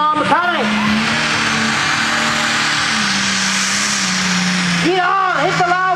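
Pulling tractor at a tractor pull competition in Great Eccleston, its engine roaring loud and sustained with a steady drone, while a commentator talks over it at the start and end.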